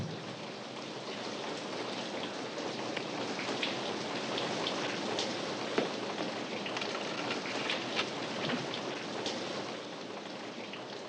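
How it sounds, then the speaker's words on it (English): Steady rain falls outdoors in a dense, even hiss with scattered droplet pattering and no voices. "Oh, it's starting to rain."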